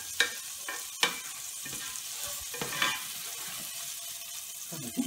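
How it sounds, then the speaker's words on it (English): Beef ragu ingredients, onions going translucent, stirred in a sizzling pan: a steady close fry under repeated scraping stir strokes and a few sharper knocks of the utensil against the pan. "So we'll put this in there and let it get translucent. Give that a good stir."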